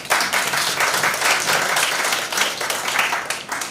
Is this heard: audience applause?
yes